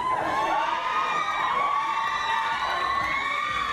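A crowd at a performance in Boracay cheers and shouts in a steady, dense roar of voices, with excited whoops rising over the sustained noise.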